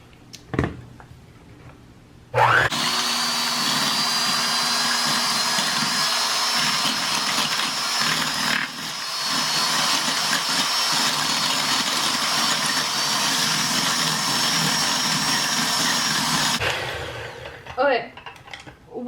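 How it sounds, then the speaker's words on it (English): An electric hand mixer beats cupcake batter for cinnamon roll cupcakes, set to low. After a few faint knocks, a steady, loud motor whine runs unbroken for about fourteen seconds, then cuts off. "I'm using a hand mixer on low."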